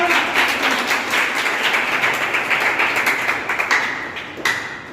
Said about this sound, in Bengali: সবাইকে একটা জোরে হাততালি হবে না?